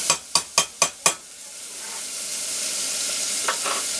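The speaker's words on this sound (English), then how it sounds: "we'll add our ham and hog jowl. Just rendering that fat out of everything." Ham and hog jowl frying in a pot, a steady hiss of sizzling fat after five quick sharp scraping stirs at the start, with a couple of softer stirs later.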